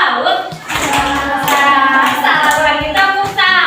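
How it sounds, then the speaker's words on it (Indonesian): Children in a classroom doing a rhythmic clapping chant, sharp patterned handclaps in quick groups mixed with young voices calling out together, close and loud. "Hebat sekalian, tepuk salut."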